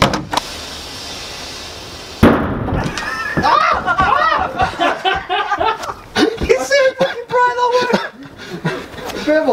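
An Enola Gaye smoke grenade hisses in a shed with a brief, steady rushing spray, then it cuts out and people laugh and talk loudly close by.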